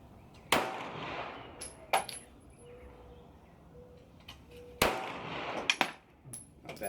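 Two loud, sharp pistol shots from a Glock 17 Gen 5 firing Sig 124 gr JHP rounds at a range, spaced a few seconds apart, each with a short echoing tail and faint background noise between them.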